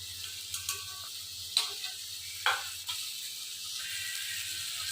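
Oil sizzles steadily in a pan as vada and pakoda fry, with a few sharp clicks and taps of utensils against the vessel.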